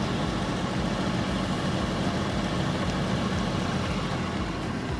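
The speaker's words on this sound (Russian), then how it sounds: "очень важно на Copart заводить машины и слушать, как они работают" A used car on a Copart auction lot idles with a steady, close engine rumble that holds an even, unbroken drone throughout, with no voices.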